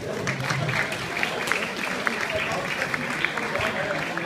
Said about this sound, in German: Applaus nochmal bitte.